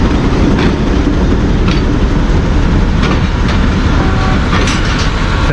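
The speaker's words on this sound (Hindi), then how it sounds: "अभी रेक की शंटिंग हो रही है" Badar Express coaches clank and rumble steadily as the rake is shunted at a Pakistan Railways station, a loud continuous wheel rumble with faint squeals and metallic knocks, no voices.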